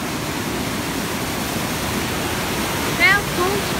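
The river at Dights Falls rushes in a broad, constant roar of flowing water close by, with a brief faint whistle-like sound near the end.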